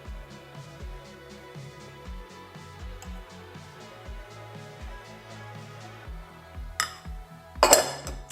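Lemon cake batter being mixed with melted butter in a bowl: rhythmic, fairly soft knocks and clinks of a utensil against the bowl, with a couple of louder clattering bursts near the end.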